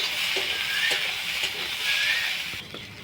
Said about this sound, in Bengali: আরও হালকা ভেজে নেব।